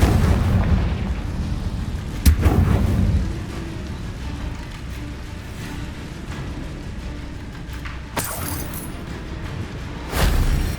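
Explosive booms from a Confringo spell in the Hogwarts Legacy video game, a few sharp blasts over a rumbling, noisy backdrop, with a lull in the middle before another burst near the end.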